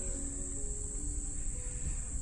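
An opened honey bee hive gives off a continuous near buzzing drone with faint tonal layers, steady and alone.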